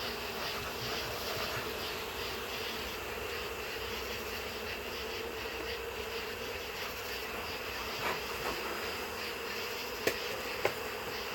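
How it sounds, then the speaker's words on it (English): Honeybees buzz steadily and densely around an exposed hive during a removal in Cleburne, Texas, a close, continuous drone with a couple of sharp clicks near the end. "So get some of these bees off there."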